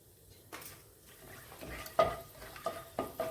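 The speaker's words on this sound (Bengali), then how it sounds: "এবার এটাকে হালকা ফ্রাই করে নেব গরম মশলাটাকে।" Whole garam masala of bay leaves, cardamom, cloves and cinnamon fries in oil for an egg curry, a soft sizzle under a few distinct clinks and scrapes of a utensil against the pan.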